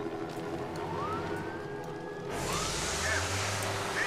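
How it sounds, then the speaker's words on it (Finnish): A fire truck siren wails in a city-building game, its rising and falling tone running under a low engine rumble, then swelling louder and busier as the truck pulls away, while a voice talks quietly at times. "Nyt lähti paloauto."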